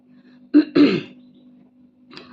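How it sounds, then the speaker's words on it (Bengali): A person coughs from a pungent curry spice, giving two sharp, throaty coughs close by in quick succession and a faint rasp shortly after, with a low steady hum beneath. "তরকারি ঝাঁজটা এত বেশি যে কাশি উঠে গেছিল"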